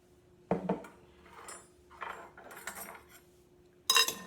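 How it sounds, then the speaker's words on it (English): Caesar salad lettuce pieces being tossed with garlic-infused olive oil in a bowl, giving several close clinks and scrapes of utensils against dishware with soft rustling between them, and no talking. "Now we're coating all of the lettuce leaf pieces with the oil."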